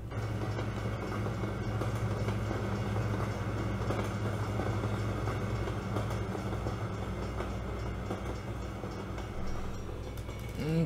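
Train rolling past in American Truck Simulator, a steady, loud rumble of rail cars with faint clattering that holds evenly throughout with no break.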